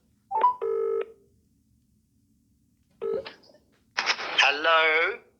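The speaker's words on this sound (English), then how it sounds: "I need to make a phone call" Several short electronic telephone keypad tones sound in quick bursts, separated by pauses, followed by a brief electronic tone sequence at the end.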